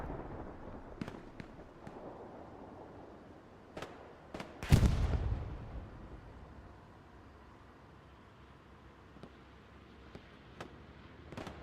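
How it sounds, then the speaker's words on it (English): A bombing run in the war game Hell Let Loose on Omaha Beach: scattered distant gunshot cracks, then one loud, deep bomb explosion with a rumbling tail, followed by more sporadic far-off shots. "Looks like a bombing run's going down."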